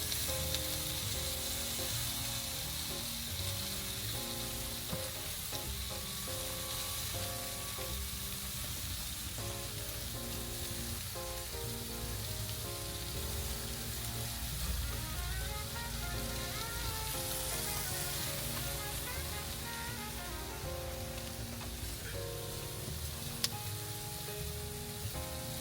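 Barbecue chicken thighs coated in sauce sizzle on a grill with a dense, continuous crackle and hiss, close and steady, with faint scraping and crackling pops over roughly half a minute.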